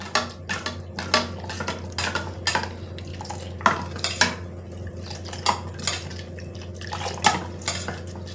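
A ladle stirs a flour mixture in a tumbler of water, with repeated clinks and scraping of metal against the vessel in an uneven rhythm, close and moderately loud with no talking.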